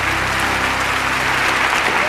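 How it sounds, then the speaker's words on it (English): A small group applauds for each other, a dense, even patter of clapping that fills the whole moment at close range. "And they all applaud for each other."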